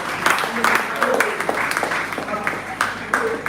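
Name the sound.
audience clapping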